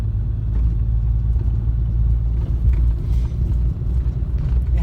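A 2015 RAM 2500 with a Cummins diesel engine and deleted exhaust idles with a steady, loud, deep low rumble, continuous throughout with no talking.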